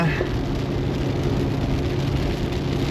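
Steady, dense rain hiss pours down without a break in the wilderness north of Pemberton, a loud continuous wash of noise with a low rumble underneath.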